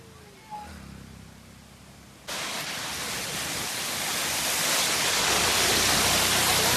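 A mountain waterfall on the road to Gangnani in the hills, a steady loud broadband roar of falling water that starts abruptly and keeps building, with faint voices and a little bird chirping before it.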